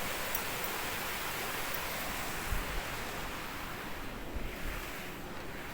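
River water pours through an opened dam gate on the Tribeni river in Odisha, a dense, continuous roar of rushing flow heard from nearby, with faint wind and occasional low bumps.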